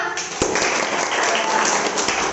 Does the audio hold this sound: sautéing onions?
no